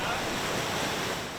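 Steady broadband roar of whitewater rapids on an Idaho river near the Bitterroot range, a dense continuous rush heard up close and loud, with no clear voices over it.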